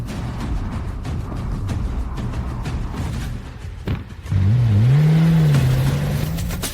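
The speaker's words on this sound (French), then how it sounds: "Monsieur Martin, montez dans la voiture." A car pulls away, its engine rising in a smooth revving whine over a low rumble of background noise, moderately loud and heard without speech.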